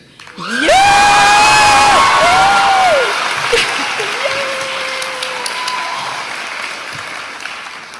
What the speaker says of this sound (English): That's your cue to cheer.